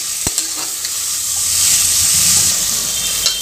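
Tomatoes and green chillies sizzle and fry in a pan while being stirred during fish biryani preparation, a steady close hiss with a few stirring clinks, no talk.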